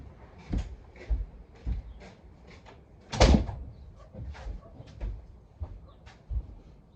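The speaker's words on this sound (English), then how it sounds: "I've got to shut this door." A household door pulled shut during indoor seed sowing, a single sharp thud midway amid quieter knocks and small handling clatters, close and fairly faint, no talking.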